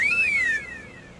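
A man whistles outside as a signal to call his wife: one short, clear whistle that rises and then falls, about half a second long, heard alone.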